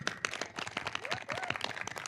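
A conference audience at HiveFest 2023 in Rosarito, Mexico gives a brief, quiet burst of applause, dense overlapping claps heard faintly in the hall without any voices.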